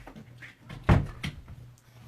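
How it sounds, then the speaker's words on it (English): A household door bangs shut with one loud thud near the middle, followed by a softer knock, over a quiet room hum. "That dang door."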